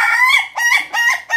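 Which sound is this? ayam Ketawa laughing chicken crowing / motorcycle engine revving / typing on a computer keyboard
ayam Ketawa laughing chicken crowing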